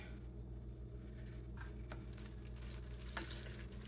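Lamb for tacos fries in a pan, a quiet steady sizzle with faint scraping and stirring clicks, heard alone and fairly soft.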